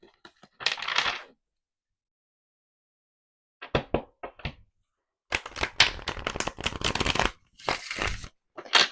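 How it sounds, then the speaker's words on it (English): Tarot cards are shuffled in several separate bursts of crisp riffling and flicking, close and fairly loud, with silent gaps in between. "Let's go ahead and get some tarot cards out here and see what other information they have for us."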